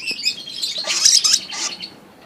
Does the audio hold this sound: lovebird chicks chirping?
yes